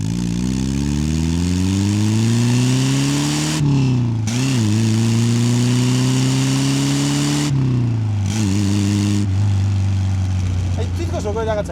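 A 1969 Lotus Elan Plus 2 engine pulls up through the gears, its drone rising in pitch several times with brief drops at each shift, loud and close throughout.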